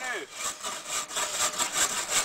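Hand saw cutting through wood with quick, steady back-and-forth rasping strokes, close and continuous, with faint speech in the background.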